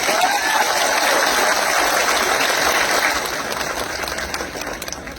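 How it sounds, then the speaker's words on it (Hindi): A crowd claps at a political speech gathering at Jantar Mantar, a dense wash of applause that holds steady and then slowly thins and fades toward the end. "उनको बड़े हाथ से ताली देना चाहिए"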